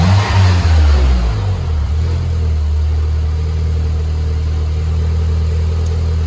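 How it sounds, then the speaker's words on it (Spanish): A car engine idles steadily with a low, even hum, a brief rev fading at the start before settling into a constant running drone. "con el motor prendido"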